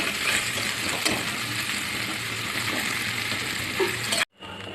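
Carrots and capsicum being stirred with salt in a hot pan, a dense continuous frying hiss with faint scrapes of the spoon, close and fairly loud, ending in an abrupt cut before a quieter hiss resumes.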